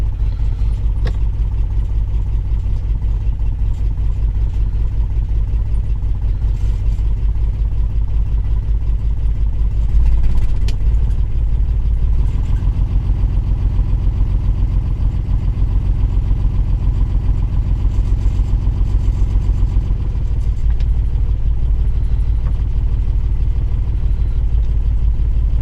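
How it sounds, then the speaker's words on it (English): A Ford Granada Mk1 engine idles steadily just after a gearbox swap, a continuous loud low rumble with a brief dip in the note partway through, no talking. "You can listen to the engine note, listen to her dip down."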